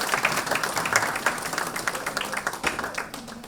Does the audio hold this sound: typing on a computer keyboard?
no